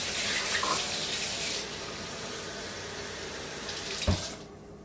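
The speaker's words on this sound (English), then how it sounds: "Warm water. So that's what I'm going to do. I'm going to pour it in here." Warm water running from a tap into a bowl for Amish bread dough, a loud steady gushing stream that softens after a moment, then a short clunk as it shuts off and the sound falls away.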